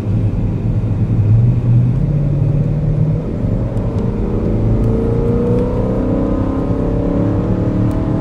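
A BMW M car drives on the Le Castellet race track, its engine droning loud and close with a steady rumble, pitch climbing gradually as it accelerates out of a turn.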